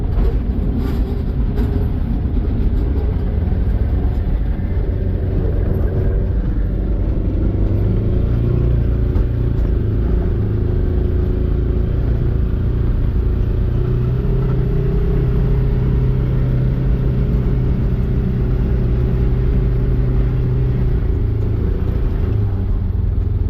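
A four-wheel drive vehicle, loaded in back with old tires as winter counterweight, moves snow with its engine running steadily. The low rumbling drone stays loud and even throughout, with no talking.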